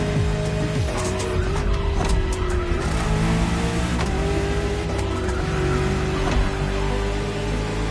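A French luxury car drives the roads of Maui in The Crew video game, its engine droning steadily with pitch rising and falling through gear changes, loud and continuous over a dense layer of music and road noise.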